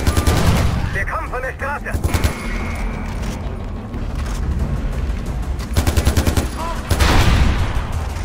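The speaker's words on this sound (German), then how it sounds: "Vielleicht mal ein bisschen mit Granaten arbeiten? Granate!" Gunfire and grenade blasts in the video game Far Cry 4: bursts of automatic shots, booming explosions and rumbling impacts come in clusters, while someone shouts briefly in German over the chaotic battle.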